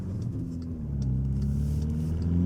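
Tuned VW Golf R with a 2-liter turbo engine, about 325 horsepower, revving under acceleration: a loud, steady mid-pitched engine drone that climbs gradually, heard from inside the car with no talk.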